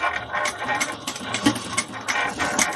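A home sewing machine that has been catching and acting wonky stitches a handbag seam in short, uneven whirring bursts, close by, with no speech.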